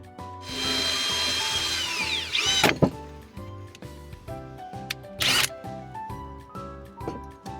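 A drill boring holes in soft metal on a backyard railway build, heard as a rising high whine with a steady rhythmic ticking mechanism beneath, broken by two sharp bursts of grinding and scraping.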